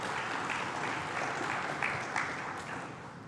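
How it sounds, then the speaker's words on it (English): A steady, moderately distant round of applause rises from a business-forum audience in a hall for a government minister, filling the short stretch before easing slightly at the end. "Let's give the Minister a round of applause"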